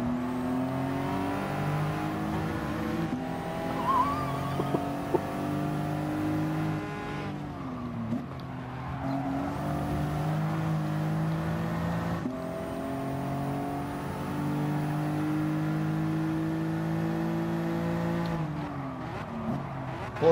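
Porsche race car engine in Gran Turismo Sport, a loud sustained harmonic whine that climbs through gears with brief drops at each shift, running continuously and alone.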